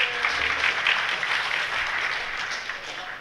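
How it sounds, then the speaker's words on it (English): Polite audience applause at a locksmithing and key-bumping talk, a moderate, fairly even patter of clapping from a hall crowd that tapers off slightly over a few seconds, with no voices. "Ah, the guilt applause."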